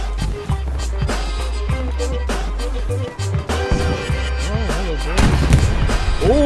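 A loud booming blast from a tank driving onto mines in Hell Let Loose, bursting out near the end among rumbling engine and gunfire noise, with a voice talking over the battle.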